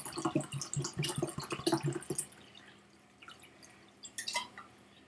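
Clean water is poured into a cracked glass, making a close burst of splashing and dripping for about two seconds, then a quieter pause and a short final trickle, with no speech.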